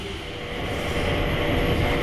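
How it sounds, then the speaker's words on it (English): An airport shuttle train running to boarding Gate C gives a steady rumbling rail roar with a faint whine, continuous and close, growing slightly louder, with no talk. "I think this is the train going to Gate C."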